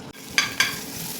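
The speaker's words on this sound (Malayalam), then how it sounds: "ഇഞ്ചിയും വെളുത്തുള്ളിയും കൂടെ നമ്മൾ നന്നായിട്ട് സോപ്പ് ചെയ്യണം" Ginger and garlic sautéing in a hot pan for pasta: a steady frying hiss broken by two quick, close stirring scrapes, with no talking.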